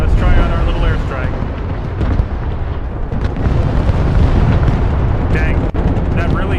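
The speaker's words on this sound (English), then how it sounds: "let's try out our little airstrike" Airstrike in a video game: a continuous heavy rumble of cluster-bomb explosions and booms, loud and sustained throughout, with a voice talking over it.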